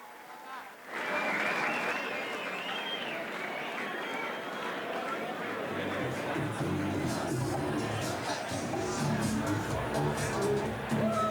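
A crowd at the XFC 36 fight event bursts into loud, sustained applause for the atomweight champion, dense clapping swelling after a quiet moment, with scattered cheers and whoops throughout.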